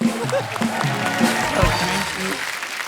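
Studio audience applause on a comedy talk show, a steady dense wash of clapping that holds at moderate loudness throughout, with faint voices underneath.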